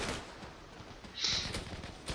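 Gunfire in the online shooter Zula, quick bursts of automatic fire and scattered shots at moderate distance, fairly quiet, with no one talking.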